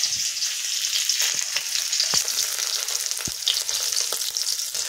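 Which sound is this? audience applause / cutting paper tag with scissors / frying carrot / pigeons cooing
frying carrot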